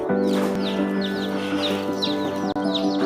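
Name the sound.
person imitating a chicken clucking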